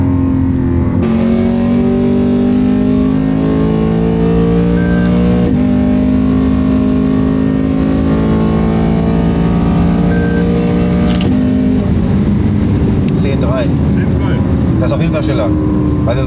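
Lexus RC-F fitted with a header exhaust, accelerating hard from 100 to 200 km/h: a loud, steadily climbing engine note with upshifts roughly every few seconds, heard from inside the car with some talk over it near the end.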